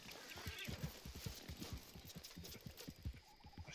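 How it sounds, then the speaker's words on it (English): A panicked Criollo horse in Red Dead Online whinnies and stamps, its hooves clattering in quick, uneven beats, heard faint and distant. "my horse freaks out because it's a Criollo"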